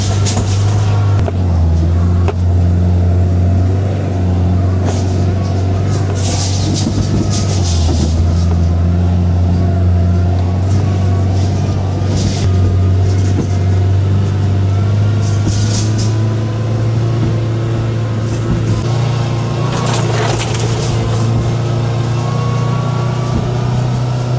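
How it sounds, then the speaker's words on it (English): A side-by-side utility vehicle towing an inexpensive 44-inch, 17.5 HP tow-behind brush hog mower drones on in a loud, steady low engine hum that holds throughout, with no talking. "I bought the cheapest brush hog money could buy on Amazon that I could pull behind my side-by-side"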